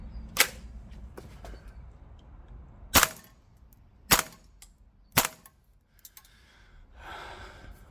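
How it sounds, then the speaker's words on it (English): A KWA IWI Tavor TAR-21 Flattop airsoft rifle firing 0.25 g BBs on green gas at a range, with five sharp, separate pops spaced about a second apart and a faint hiss after the last shot. "Now, how does she shoot? Well, let's take it out to the range and find out."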